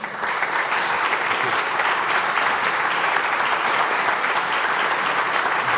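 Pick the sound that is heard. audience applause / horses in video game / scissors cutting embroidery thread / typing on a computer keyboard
audience applause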